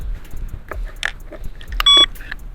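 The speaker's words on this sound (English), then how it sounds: "Plug it back in, it always give you that little beep." Short electronic beep from a GLEERIDE A9 14-inch mini folding electric bike as its battery is plugged back in, a single high tone amid clicks and clunks of the battery locking into its rail.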